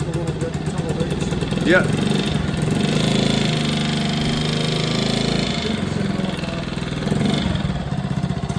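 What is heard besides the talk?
classic motorcycle engine starting and idling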